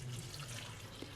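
Water pouring steadily from a container into a Thermomix bowl for soup, a continuous soft rushing splash with no other sounds.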